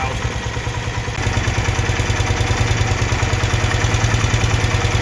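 BMW motorcycle with twin carburetors idling near 1000 rpm during carburetor syncing, a steady close, even low chugging pulse that firms up slightly after the first second, with no talk over it.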